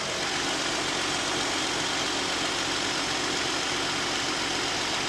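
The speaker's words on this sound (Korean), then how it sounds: "엔진 소리 한번 듣고 올게요." A Hyundai Equus with a V6 engine idles on a cold start, its hood open, giving a steady, even hum with a faint rhythmic ticking underneath. It runs continuously and alone, with no voices heard.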